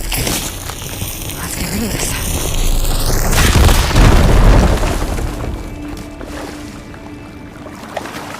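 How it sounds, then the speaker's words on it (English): A firegleam deposit is blown up in Horizon Forbidden West, a deep rumbling explosion that swells over a couple of seconds, with crackling debris, after a rising sci-fi whine, then fades into quieter ambience. "Should be able to blow up that fire gleam."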